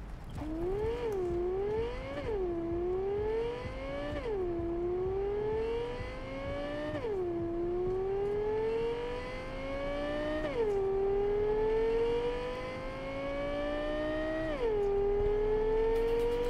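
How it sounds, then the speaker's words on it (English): A car engine in Cyberpunk 2077 revs repeatedly, pitch climbing through gears then dropping at each shift, loud and continuous with a synthetic, game-like tone. "Car sounds pretty sweet."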